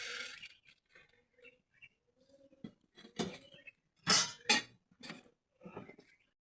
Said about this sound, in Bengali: এবার 2 চামচ চিনি দিলাম